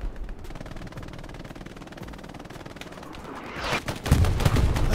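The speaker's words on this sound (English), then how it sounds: "here comes the artillery" Artillery barrage and gunfire in the World War II shooter Hell Let Loose, a steady crackle of rifle and machine-gun fire that swells near the end into heavier, louder blasts with deep booms.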